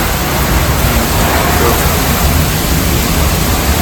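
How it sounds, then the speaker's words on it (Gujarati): Heavy monsoon-style rain driven by strong wind at a house: a loud, continuous roaring wash of rain and gusting air that fills the whole clip, with no clear speech. "પવન એટલો આવે છે ને વરસાદ એટલો આવે છે"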